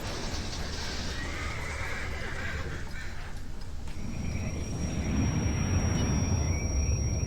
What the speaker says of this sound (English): look at that horse eat in a really disturbing way